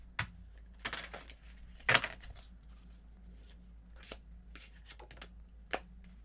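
Tarot cards are shuffled in quick riffling bursts, with scattered soft taps and rustles between them against a quiet, low hum.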